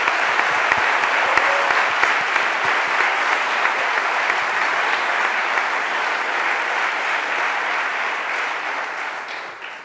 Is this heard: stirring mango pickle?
no